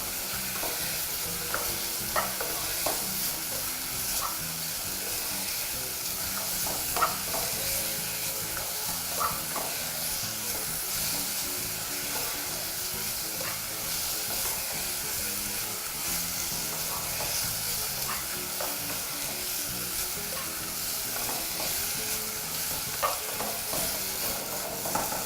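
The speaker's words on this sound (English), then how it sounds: "it's very, very important that you continue stirring your meat while it's browning" Pork stir-frying and browning in a pan while being stirred, a steady loud sizzle and hiss with occasional scraping clicks from the utensil, continuous and close throughout, no talking.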